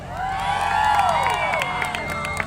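A fair crowd at a BMX stunt show at the 2017 Williamson County Fair in Franklin, Tennessee, cheers and whoops loudly with rising shouts and scattered clapping, heard up close and without speech.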